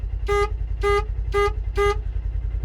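Horn from a WD Electronics horn kit on a 2024 or 2025-26 Xpedition vehicle sounds four short, evenly spaced toots, loud and close over a low engine rumble.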